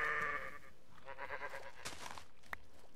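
A monster sheep in the Minecraft Blightfall modpack gives a wavering bleat at the start, followed by soft game crunching and clicking sounds at a low level; no one speaks.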